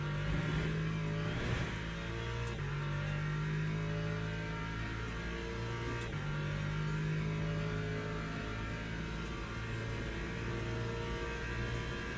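In Le Mans Ultimate, a race car's engine drones steadily at high revs with brief pitch drops as gears change, loud and close throughout with no speech.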